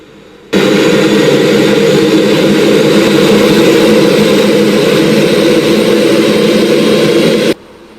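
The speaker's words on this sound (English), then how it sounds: "finally, engine 1. We get our flashing light, give it fuel," A Concorde jet engine spools up to a loud, steady roar with a broadband rumble that holds for several seconds before cutting off abruptly.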